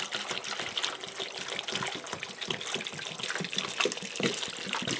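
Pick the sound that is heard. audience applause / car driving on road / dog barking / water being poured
water being poured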